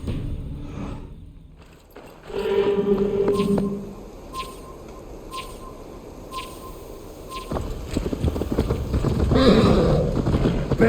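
Horse hooves in Assassin's Creed Valhalla, rapid clip-clop of riding over the ground, building louder toward the end, mixed with game ambience and a few sharp clicks.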